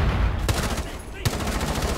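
Gunfire in the Rainbow Six Siege video game, on the Kanal map during a bomb defuse round: two sharp shots stand out over a dense, busy bed of game noise.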